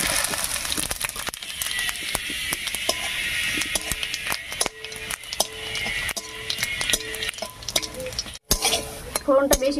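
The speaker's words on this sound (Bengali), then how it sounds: "তেলের মধ্যে দেব 3টে এলাচ, 3টে গোলমরিচ, 3টে লবঙ্গ আর 3 টুকরো দারচিনি" Cardamom, black peppercorns, cloves, cinnamon, dried red chilies, bay leaves and cumin seeds sizzle and crackle in hot oil in a pan, with a spoon clinking and stirring throughout.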